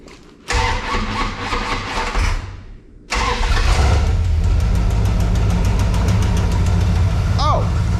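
A Dodge D100 truck engine cranks and catches, stumbles briefly, then cranks again and settles into a loud, steady running rumble close by.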